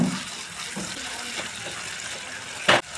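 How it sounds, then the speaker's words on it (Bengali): A small splash of water is poured into frying spice masala with Kashmiri chilli powder for a soya chunk curry, a brief gushing pour near the end over a soft background hiss. "অল্প জল দিয়ে মশলাটা ভালো করে আবারও কষিয়ে নেব।"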